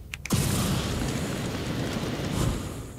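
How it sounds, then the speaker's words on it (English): A flamethrower burning in the video game Scribblenauts Unlimited, starting with a sharp burst and then becoming a steady, loud roaring whoosh that lasts a few seconds with no voice over it. "I already had the flamethrower. Why would I want to put that away? Burn!"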